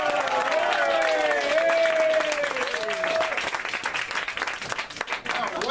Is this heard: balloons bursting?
no